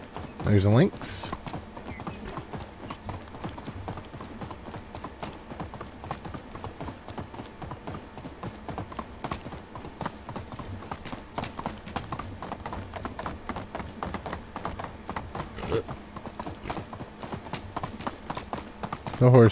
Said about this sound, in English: The horse really does make traveling so much easier.